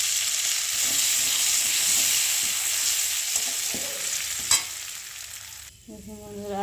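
Ginger frying in a pan as turmeric, cumin and coriander powders go in, a steady close sizzle with stirring scrapes throughout, one sharp clatter midway, then the hiss briefly drops and shifts as the spices land.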